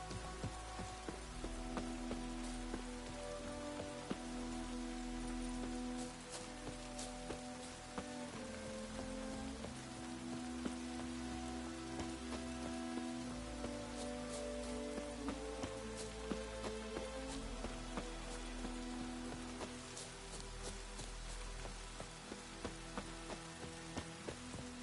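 Rain falls in The Witcher 3: Wild Hunt, set in Velen, a steady pattering hiss on surfaces under soft, sustained musical tones, continuous and moderately quiet throughout.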